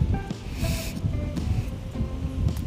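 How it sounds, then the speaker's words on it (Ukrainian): Strong wind in an open field buffets the microphone in steady low rumbling gusts, with broadband whooshing that swells and eases throughout. "Вітрюган просто неймовірний."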